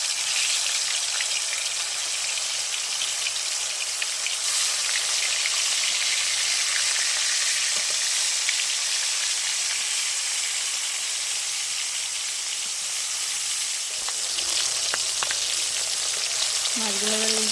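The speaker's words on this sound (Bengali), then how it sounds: "তেল গরম হয়ে গেছে, এবার আমি মাছ দিয়ে দেবো এতে।" Fish frying in hot white oil in a pan (kadai), a steady loud sizzling hiss that runs throughout, with brief stirring or movement noises near the end.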